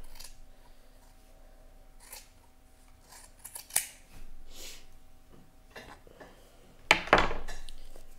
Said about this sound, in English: I can cut a piece out.